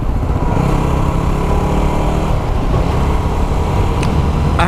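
A Yamaha WR250R motorcycle engine runs steadily close by, a continuous loud buzzing drone through the whole stretch, with a brief higher whine near the end.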